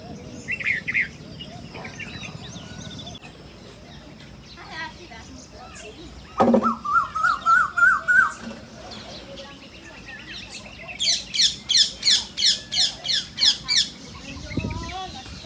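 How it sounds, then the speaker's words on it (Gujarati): Sparrows chirp around nests behind a house: bursts of quick, bright tweets and squawks come in rapid repeated runs, fairly close, over a quiet outdoor background. "અને કિશુભા બહાર ચકલાના દોણા નાખેલા એ ભેરવા આવતા રહે."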